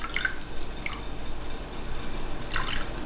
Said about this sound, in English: So here I have soy sauce. I'm gonna add it into the egg.